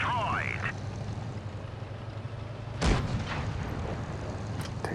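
A single sharp boom of a Pershing tank's cannon in a video game cuts through a steady engine drone, with a brief voice at the start.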